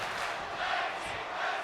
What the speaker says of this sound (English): the Miz riles up the crowd, revving up the crowd